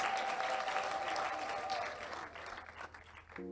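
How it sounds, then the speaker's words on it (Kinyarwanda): An audience applauds at a wedding celebration, dense continuous clapping that fades toward the end, with a brief musical tone near the close. "amashyi nyamuneka rwose merci beaucoup"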